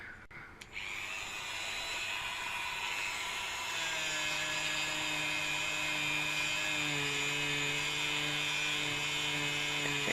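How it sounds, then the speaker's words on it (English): A Dremel rotary tool grinds an old iron Christmas tree stand, giving a steady, continuous high-pitched whine that holds throughout, with its tone shifting and settling partway through as the bit works the metal. "Now I'm going to try the Dremel."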